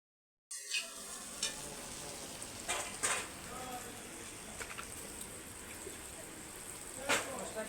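Spice paste (masala) frying in a pan, a steady soft sizzle with intermittent sharper stirring scrapes, moderately close and fairly quiet, with faint talk in the background.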